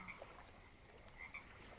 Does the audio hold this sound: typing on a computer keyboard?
no